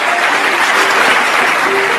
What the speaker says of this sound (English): then the whole hall erupts into applause and congratulations.